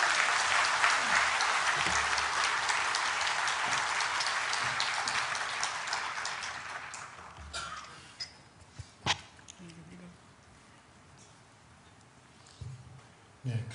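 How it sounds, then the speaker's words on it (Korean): A church congregation gives loud, sustained applause to welcome a guest speaker at a Sunday service, clapping densely for several seconds before thinning out into scattered claps and faint voices. "여러분 큰 박수로 환영해 주시면 고맙겠습니다"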